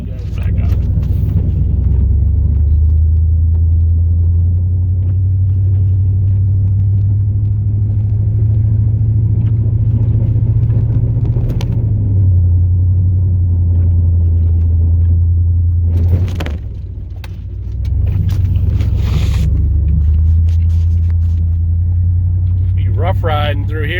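Snowplow truck driving through deep snow, a loud steady engine drone and road rumble that dips briefly partway through, with occasional clunks and someone talking over it.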